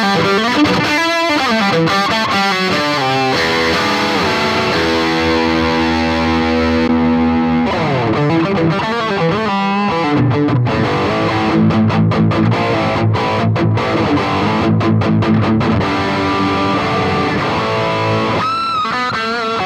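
Electric guitar played through a Boss GT-1000 amp modeller with a distorted, effects-laden tone. Loud chords and sustained notes ring out alone for about twenty seconds, with short pauses and shifting textures.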